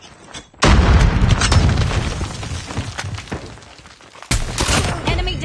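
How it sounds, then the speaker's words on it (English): A flashbang grenade goes off in a shooter video game with a sudden loud blast and a rumbling, crackling tail, then a second sharp burst near the end. "Flashbang."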